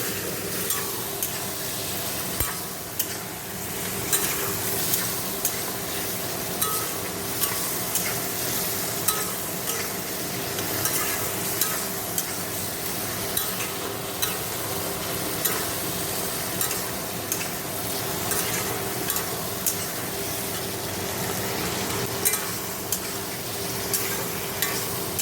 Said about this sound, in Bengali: আমি সবজিটা কষিয়ে নিচ্ছি